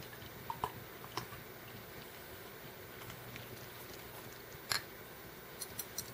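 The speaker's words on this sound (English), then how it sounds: "Give the old pouring test." Dark spiced beer poured into a glass makes a quiet, steady fizzing trickle with a few soft drips and splashes, close by and with no talking.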